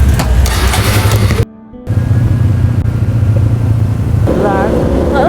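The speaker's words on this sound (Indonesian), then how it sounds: "untuk mencapai ke sana kita harus menggunakan motor ya" A motorcycle riding on a road toward Semeru volcano, its engine a continuous close rumble, briefly cut off for a moment, then resuming. Voices can be heard faintly at points over the engine.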